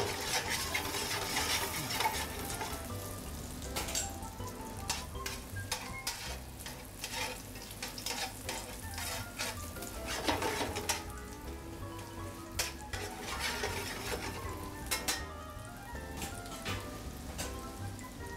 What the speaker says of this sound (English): Cook a little bit of onion with each lot of the pierogis.